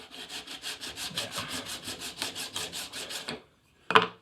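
A file rasps across the edge of a steel card scraper in steady, evenly spaced strokes, close and alone, then stops briefly before one sharp metallic clank.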